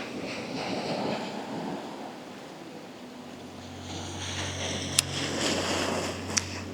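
Ocean waves rolling onto the shore, a broad steady wash of surf mixed with wind buffeting the microphone, swelling again near the end with a couple of sharp clicks.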